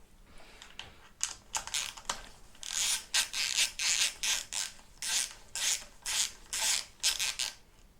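Ratcheting wrench loosening rocker cover nuts on a Honda K20 cylinder head, a close series of quick rasping clicks in rhythmic bursts, sparse at first then steady and repeated.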